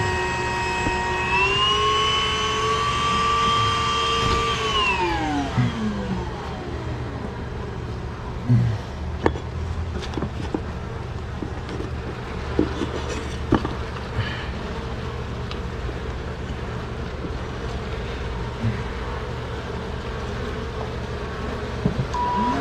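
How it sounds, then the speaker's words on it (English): A vacuum cleaner whines steadily and loudly nearby, its motor pitch dropping after a few seconds as it works, with scattered knocks and clatter of the nozzle against surfaces throughout. "Now that the vacuum's doing it."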